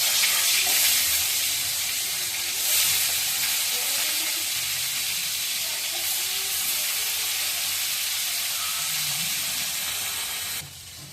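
Fish frying in oil in a kadai gives a loud, close, continuous hissing sizzle that holds steady before easing off at the very end.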